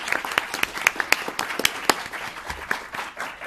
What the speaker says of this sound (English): I'd like to give a round of applause to our authors and discussants